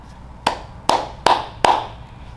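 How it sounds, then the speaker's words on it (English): Four distinct hand claps at home during a children's storytime, loud and close, spaced at a slightly uneven rhythm with quiet pauses between each clap. "can you clap?"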